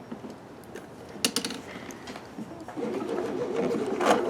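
Baby Lock Sashiko sewing machine stitching through four layers of denim, irregular mechanical clicks and taps at first, then a denser, louder whirring rattle building toward the end.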